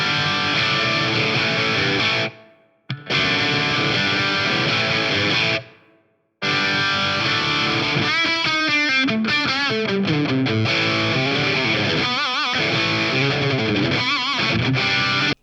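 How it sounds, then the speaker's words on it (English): An instrument played through the Eventide H90's SP2016 vintage room reverb, with about half a second of decay and low diffusion, position and pre-delay. A dense, loud, distorted tone sounds throughout, broken by two brief gaps and passages of fast shifting notes. "I've got about half a second of reverb with the vintage room."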